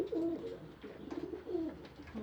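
Pigeons coo in low, throaty rolling calls in a loft, several overlapping phrases repeating close by, with a soft murmur of the flock underneath.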